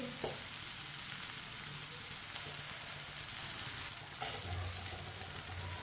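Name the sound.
okra (bhindi) frying in a pan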